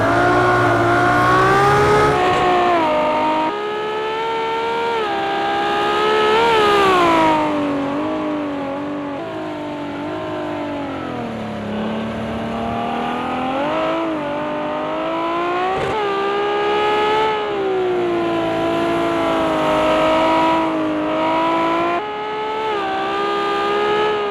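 A Ferrari LaFerrari racing in the video game Project Cars 2, its engine loud and close with a high whine that climbs and falls through repeated revs and gear changes, alone without speech.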